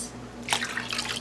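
Water splashes and trickles as it is poured into a mashed potato mixture for aloo chapli kababs in a home kitchen, a short steady running pour after a quiet moment.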